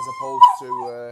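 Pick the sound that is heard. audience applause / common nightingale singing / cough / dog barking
dog barking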